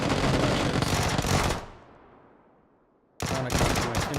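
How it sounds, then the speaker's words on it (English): Gunfire in the PUBG video game: dense, loud bursts of rapid shots, a gap of fading echo, then another loud volley cutting in. "I saw that guy started tapping shots at him."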